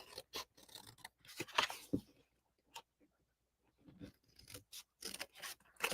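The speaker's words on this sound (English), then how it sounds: "I'm cutting on the inside of this score line and cutting on the inside of that score line to cut those out." Scissors snip through cardstock along score lines in a sequence of short, close crisp cuts, a cluster early on, a quiet pause, then more snips toward the end.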